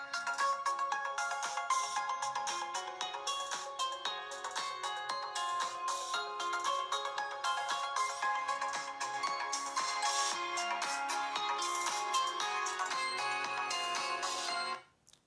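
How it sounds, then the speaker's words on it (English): A Tecno Camon 30 smartphone plays its ringtone at highest volume, a bright, repeating electronic melody that rings on steadily for about fifteen seconds before cutting off abruptly, with no talking. "Yeah, that's ringtone."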